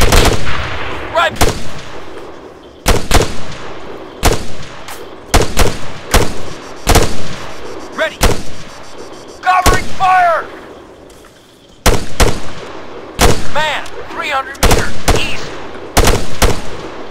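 Repeated bursts of gunfire from the Arma video game on Altis, sharp loud volleys and single shots spread through the clip with short gaps, some sounding near and others more distant.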